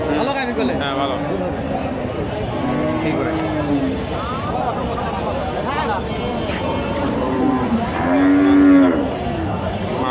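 Friesian dairy cows mooing at a busy cattle market in Bogura, several drawn-out lowing calls close by, with a louder moo near the end, over constant crowd chatter and voices talking.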